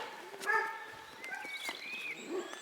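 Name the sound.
hunting dogs barking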